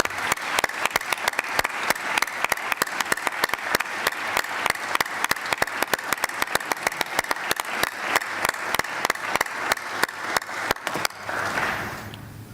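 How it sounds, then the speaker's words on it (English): Assembly delegates at a NATO Parliamentary Assembly defence and security committee session applaud a minister, dense steady clapping that fills the room for about eleven seconds before fading out. "and we applaud you."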